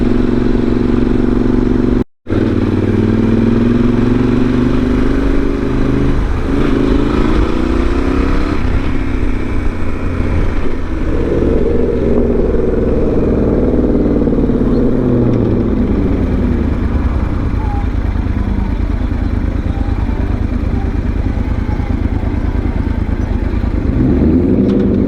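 A Yamaha Super Tenere motorcycle on the road, its engine droning loud and steady throughout with wind rush and a shifting, rising and falling tone as it rides along.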